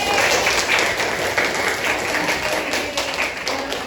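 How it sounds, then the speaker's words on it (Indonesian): A high school history class applauds in a classroom, a loud, continuous burst of many students clapping close together, dense and even throughout with occasional desk taps and thumps mixed in. "Oke, yuk kita beri tepuk tangan dulu ya."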